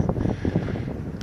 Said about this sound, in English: sorry for the wind, it's quite windy here today